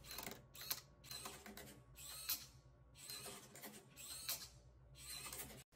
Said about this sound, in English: a servo arm swings through and flips the cube